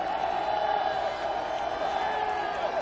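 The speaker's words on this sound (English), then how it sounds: "Hear the crowd in the background" Football stadium crowd at a 1996 college game between New Mexico and Rice, a steady distant roar and murmur under a commentator's voice.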